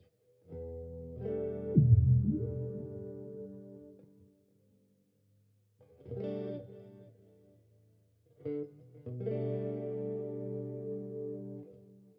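Electric guitar run through a heavily processed preset on a Fractal FM3 multi-effects processor, distorted and chorused chords ringing out in three separate phrases with pauses between.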